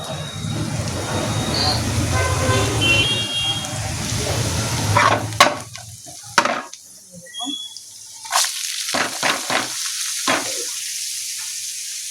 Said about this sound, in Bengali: পেঁয়াজ বসতে দিয়েছি ওটা দেবো একটা শুকনো লঙ্কা দিয়ে দিলাম